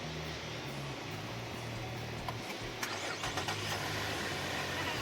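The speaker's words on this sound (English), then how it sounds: "Now what you're gonna do is get in there and turn the ignition on." A car engine cranks and catches after a jump start, its mid-pitched running sound continuing steadily throughout with a few knocks and rattles, recorded close by.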